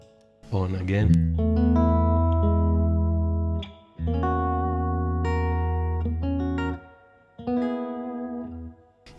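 Guitar with a tiny amount of modulation effect engaged, giving a subtle three-dimensional shimmer: a few sustained chords and notes ringing out with short gaps between phrases, clear and fairly loud, no talking.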